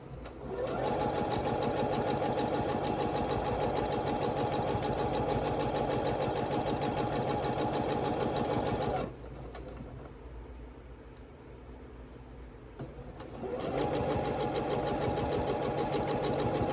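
A sewing machine runs fast and steady while stitching a quilt block, loud and close, stops for a few seconds of quiet room noise, then starts stitching again.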